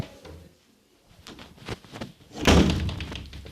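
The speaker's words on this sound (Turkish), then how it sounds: "Kapıyı örttüm." A door slams shut inside the Granny horror video game, a single loud thud over low background game ambience.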